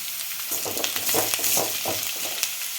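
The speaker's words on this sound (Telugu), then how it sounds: "ఇప్పుడు వెజిటేబుల్స్ కొంచెం వేగినాయండి" Vegetables and potatoes frying in a pan for a fish curry, a steady close sizzle with soft stirring scrapes and clinks rising and falling throughout, no voices.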